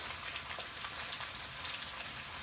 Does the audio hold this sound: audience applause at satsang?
no